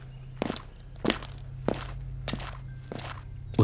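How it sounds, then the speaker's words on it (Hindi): Footsteps fall in a steady rhythm, about six evenly spaced steps, with a low hum underneath. "राजू उन दोनों को लेकर सन्नाटे में बने एक मकान की तरफ चल दिया"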